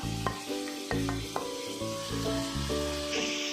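Five chopped green chillies sizzle hard in hot oil in a pan, loud and close, as a spoon stirs them with repeated scraping strokes.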